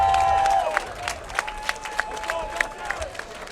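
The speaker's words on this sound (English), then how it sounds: "a big round of applause for both of these championship warriors" An arena crowd claps and cheers after an amateur welterweight boxing bout, scattered claps standing out against a background roar that fades slightly after a fading announcer tone at the start.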